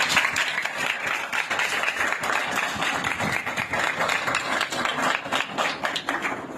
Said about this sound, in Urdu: خدا کا جلال کے لیے زوردار تالیاں بجاؤ